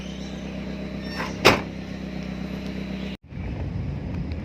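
A Nissan B13 being driven: steady low engine and road rumble inside the car, with a sharp knock partway through and a brief dropout before the drone resumes.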